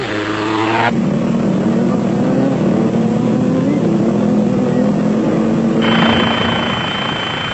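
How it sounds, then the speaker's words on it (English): Powerful KTM and Honda off-road racing motorcycles at the 1996 Roof of Africa race, a loud continuous engine drone with a shifting pitch as bikes pass close by. "Van Niekerk had no chance of keeping the powerful pack of KTMs and Hondas off for long in these near-perfect race conditions."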